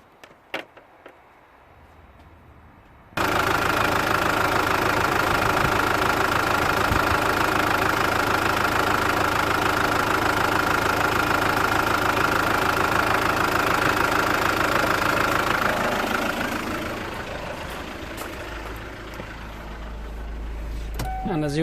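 A Kia Sedona 2.9 CRDI diesel in limp mode with fault codes P0087 and P0088 starts up after a few quiet clicks, then idles with a steady, loud, close hum that eases slightly near the end.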